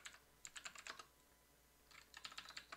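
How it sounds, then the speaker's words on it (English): Keys clatter on a computer keyboard in two quick bursts of typing with a quiet pause between them, close and clear, during setup of a metabolic cart analysis. "Save us some time typing there."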